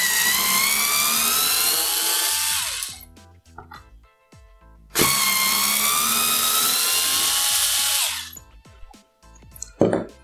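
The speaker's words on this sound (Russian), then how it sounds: "Выкрутим два самореза." A cordless screwdriver backs two self-tapping screws out of a window-blind bracket in two loud whining bursts of about three seconds each, with brief rattles and clicks between them.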